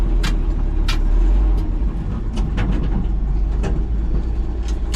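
A 1962 Ford F600 truck engine runs with a deep, steady low rumble and recurring sharp clicks and taps from the engine bay, recorded up close.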